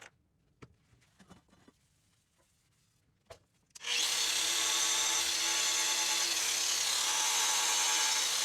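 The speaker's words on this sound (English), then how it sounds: "So I'm gonna try a polishing wheel with some polish and see where we get." A Dremel polishing wheel runs against a metal score counter from a Brunswick Gold Crown pool table, starting after a few light handling clicks and then holding a steady, loud, high whirring grind close up.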